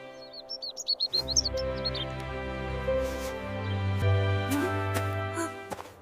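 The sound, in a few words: bird chirping in winter garden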